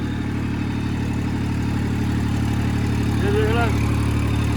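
A tractor engine runs steadily at idle on a farm in foggy March weather, a low continuous drone throughout, with someone speaking briefly over it near the end.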